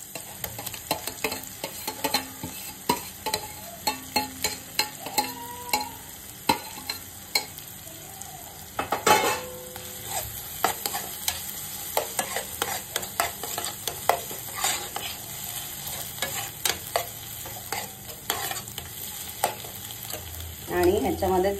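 Sauce added to boiled penne pasta in a pan, steady sizzling under repeated scraping and stirring strokes, close and moderately loud.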